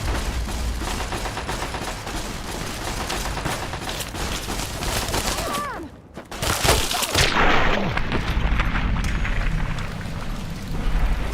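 Gunfire crackles and rattles steadily through a Fallout raider fight, then a grenade blast bursts out near the middle and leaves a rushing, debris-filled roar as the shooting resumes; no talk.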